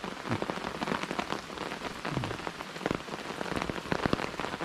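Steady rain patters on a hammock tarp at a campsite at Pha Nang Dam, a dense, close drumming of many drops with no pauses.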